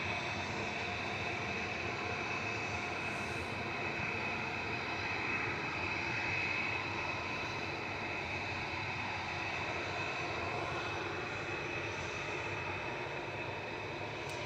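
An EasyJet airliner taking off from Manchester Airport, a continuous distant jet roar with a faint whine, steady and moderately quiet for the whole stretch, with no voices.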